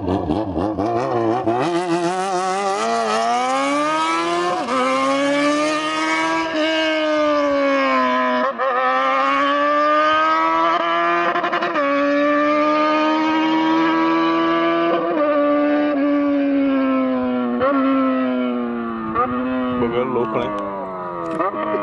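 Yamaha XJ6 motorcycle with its original exhaust revs and passes, a loud sustained engine tone with clear rising and falling pitch as it accelerates and shifts, dominating throughout.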